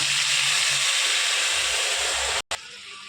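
Spice paste of ground coriander, turmeric, cumin and chilli sizzles in hot oil, a loud, steady hiss that fills the whole stretch and cuts out briefly near the end.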